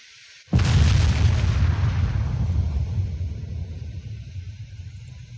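Naval gunfire in the Ultimate Admiral Dreadnoughts warship game: a single heavy, close boom cracks out suddenly, then a long, rolling low rumble fades slowly over several seconds.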